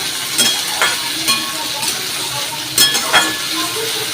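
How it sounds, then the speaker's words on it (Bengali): Bitter gourd and potato pieces frying in oil with nigella seeds, a steady close sizzle broken by a few utensil scrapes and clinks as the pan is stirred. "এখানে কালো জিরে দিয়ে তেলে দিয়ে এই উচ্ছে আলুটা ভাজতে বসিয়ে দিলাম"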